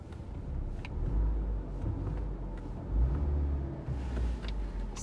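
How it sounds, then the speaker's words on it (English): A car engine rumbles low and close, swelling in a few short revs that rise and fall over a steady idle. "if it does start running down, I can just like rev it a little bit"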